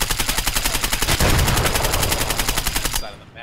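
Loud, rapid automatic gunfire in the video game Escape From Tarkov rattles in a steady stream for about three seconds, then cuts off abruptly.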